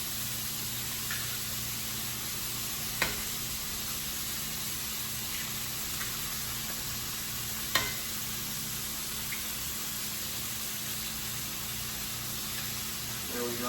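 Pasture-raised eggs are cracked into a hot pan beside browned beef, giving a steady, even sizzle throughout with two sharp cracking knocks standing out, no voices.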